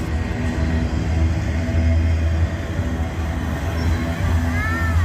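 A Union Pacific freight train rumbles steadily past nearby in Abbeville, with a low continuous roar, clattering wheels and a faint high squeal toward the end.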